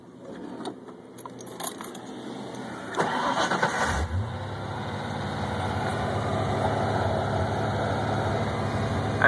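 A car engine cranks with a short starter burst and catches, then settles into a steady, fast idle around 2,000 RPM with a check engine light on, preceded by keys jangling near the ignition.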